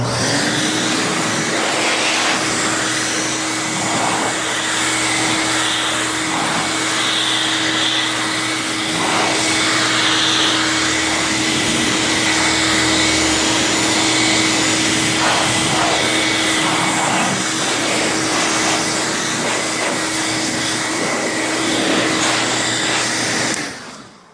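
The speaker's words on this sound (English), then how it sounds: "Then of course we dry the vehicle off." A blower dries a freshly washed car after detailing, giving a loud, steady whooshing roar with a constant hum that runs unbroken for the whole stretch before it cuts off at the end.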